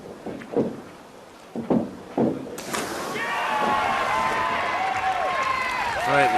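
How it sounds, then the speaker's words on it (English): Enthusiastic crowd applause after a dive at the 15th FINA World Championships in Barcelona, swelling suddenly after brief commentary into a broad, sustained roar of clapping and cheering from a large arena. "It's brought enthusiastic applause."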